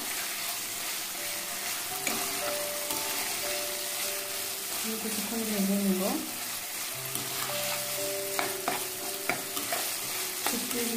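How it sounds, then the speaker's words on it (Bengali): Dried fish sizzles steadily in very hot oil while a spatula stirs and scrapes it with irregular clatters, cooked for a cabbage dish; a voice speaks briefly over the frying. "শুটকির মধ্যে থেকে একটা সুন্দর ফ্লেভার চলে আসছে, তার মানে আমি শুটকিটা ভাজা হয়ে গেছে, আর ভাজতে হবে না।"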